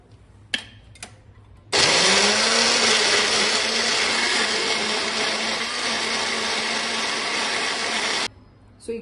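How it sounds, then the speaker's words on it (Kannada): A kitchen blender grinding blanched spinach into a fine paste: a loud, steady motor whir running about six seconds, then cutting off, with small handling knocks before it starts. "ನಾವು ಇದನ್ನ ತಗೊಂಡು ಇವಾಗ ಬ್ಲೆಂಡ್ ಮಾಡ್ಕೊಳ್ಳೋಣ."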